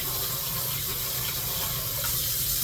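Water poured into cat food bowls holding a mix of dry food, wet food and treats, a continuous close hiss and trickle of running liquid filling the whole moment, with no talking.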